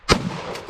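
A gunshot sets off a Tannerite target outdoors: one sharp, loud blast followed by a long rumbling decay, with no talking.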